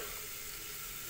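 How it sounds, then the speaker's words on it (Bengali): Carrots, cauliflower, cabbage, beans and onions fry in hot oil for poha, a soft, steady sizzling hiss that stays faint and continuous without any voices. "তেলের ভিতর গাজর, ফুলকপি, বাঁধাকপি, বিনস, পেঁয়াজ সব রকম সবজি দিয়ে একটু ভেজে নেব"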